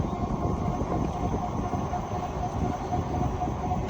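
Vamos El Doblez electric bike riding on throttle in level 3, giving a steady low rumble of wind and road noise with a faint constant motor whine running unbroken throughout.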